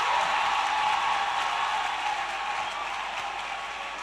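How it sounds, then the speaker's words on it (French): A church congregation claps together in a sustained, dense wash of applause, loud and close at first and easing slightly toward the end, with no voices standing out. "acclamez-vous vous-même"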